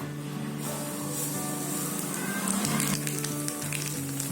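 Nigella seeds crackle and sizzle sharply in hot oil, a dense steady hiss with small pops, close by and alone.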